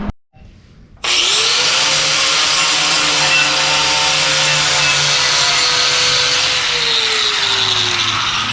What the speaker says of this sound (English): I'll get these holes drilled and then I'll cut them apart.